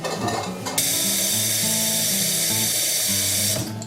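Cold tap water runs steadily into a pot of eggs, a loud, continuous gushing stream with a rising filling tone, starting abruptly and cutting off near the end.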